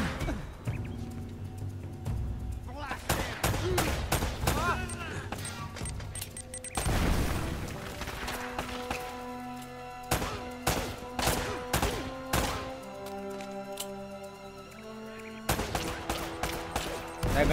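A grenade blast and gunfire in the Uncharted: Drake's Fortune Remastered video game, with a sharp explosion early on, scattered loud shots and crashes, and a steady musical score underneath.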